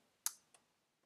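A computer mouse gives two quick, close, quiet clicks, the first sharper than the second, in a near-silent room.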